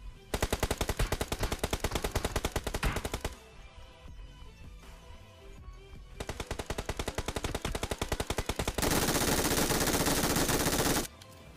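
Rapid automatic gunfire from a PUBG Mobile match, loud and close, in sustained bursts with short pauses and a dense final volley, no talking.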